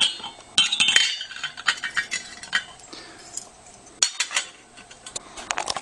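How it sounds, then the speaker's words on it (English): A hookah ashtray is set onto the metal stem in a close series of light metallic clinks, taps and scrapes, busiest at the start and again near the end. "Now place the ashtray on the stem"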